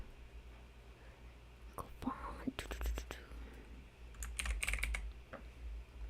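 Quiet bursts of typing on a computer keyboard, short irregular clusters of sharp key clicks close to the microphone with soft background hum and a faint whisper-like breath.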